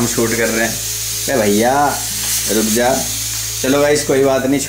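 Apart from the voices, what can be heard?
chole (chickpea curry) frying and sizzling while cooking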